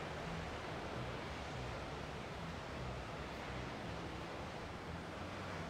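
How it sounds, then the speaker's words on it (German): Sea surf rolls onto the beach at Side promenade in the evening, a steady broadband roar of waves mixed with wind buffeting the microphone, continuous and close with no talking. "dass ihr auch schön den Meeresrausch hören könnt"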